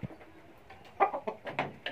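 Black chickens cluck softly in a coop, a string of short, low clucks and murmurs that grow busier toward the end, heard fairly close but at low volume.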